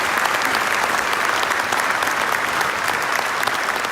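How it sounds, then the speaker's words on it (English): Dense crowd applause for the Aurora Police Department and its Honor Guard at a police recognition ceremony, loud and continuous throughout with no talking. "Let's give a round of applause to the Aurora Police Department, the Honor Guard, our Deputy Chief, Chief Jackson, and all the police"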